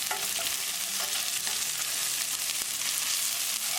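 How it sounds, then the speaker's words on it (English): Green chili cooks with browned onions in a hot oil tadka, a dense continuous sizzle with faint scraping as it is stirred, close and steady with no talking. "Cook green chili along with tadka for half minute."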